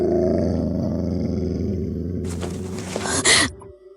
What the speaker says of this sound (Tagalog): Parang isang mabangis na hayop ang aking narinig.